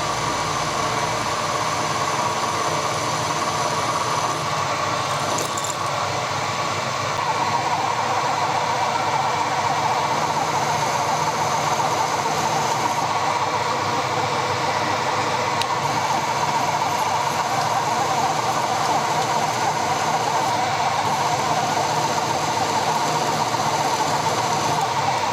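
An HSS cobalt drill bit bores through mild steel with a steady, continuous whining grind that holds for the whole stretch, close and fairly loud without pause.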